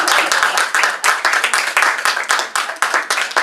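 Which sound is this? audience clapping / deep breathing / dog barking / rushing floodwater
audience clapping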